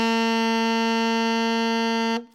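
A saxophone sounds a single low G, a rich, buzzy sustained tone held loud and even at close range for about two seconds before it cuts off quickly.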